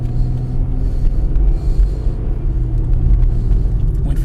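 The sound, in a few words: 2005 GM car with 4T65-E transmission accelerating, shifting gears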